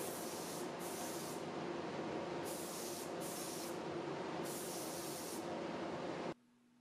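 A paint spray gun sprays paint in a steady, loud hiss in several continuous passes with brief breaks between them, then cuts off abruptly to quiet.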